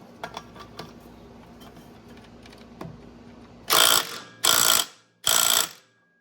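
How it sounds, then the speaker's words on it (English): DeWalt 1/2-inch drive tool tightening a part back on during a Kawasaki Ridge clutch kit install: faint clicks and small knocks, then three loud, close, buzzing bursts of about half a second each. "And I will use a DeWalt 1/2-inch drive to put this back on with."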